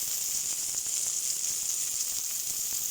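Chicken pieces fry on a pan over a medium flame, giving a steady, even sizzle with soft crackles, close and continuous with no talk.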